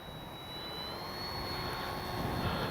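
A Kavan Beta 1400mm RC trainer model airplane on its maiden flight, giving off a steady, thin electric motor whine that holds an even pitch and slowly grows louder as it passes at a distance outdoors.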